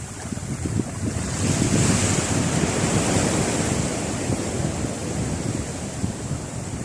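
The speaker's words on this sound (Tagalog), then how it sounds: "lumalakas na yung hangin" Strong wind roars across the microphone with surf washing beneath it, gusting louder then easing slightly, no voices.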